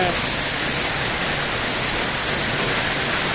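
Steady rain falls in an even, continuous hiss with no breaks, filling the space at a constant moderate level.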